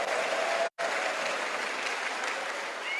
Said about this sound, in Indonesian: Oh, tepuk tangan yang kuat